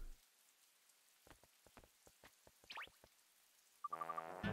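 Rain in the video game Yo-kai Watch 2 comes as sparse, scattered drips and taps on a quiet background, followed by a brief burst of game music and effects at the end.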